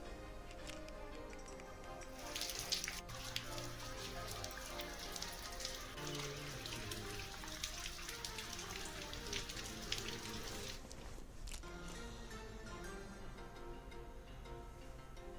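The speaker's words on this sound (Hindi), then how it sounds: "कालाडूंगी और उसके आसपास के क्षेत्रों में झमाझम बारिश हुई है।" Heavy monsoon rain pouring down in Kaladhungi, Uttarakhand, a dense continuous hiss and patter of drops on surfaces, steady throughout and heard alone without voices.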